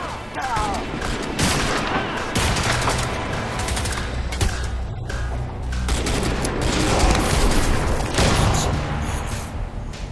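Gunfire in the shooter game Crysis 2, including a six-shooter pistol, with loud repeated shots and booming blasts layered over continuous dense battle noise, while someone talks faintly underneath.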